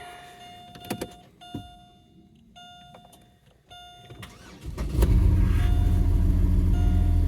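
A car engine cranks and catches after a Hitachi throttle body installation, settling into a loud, steady idle after a few seconds of quieter clicks and electrical whirring.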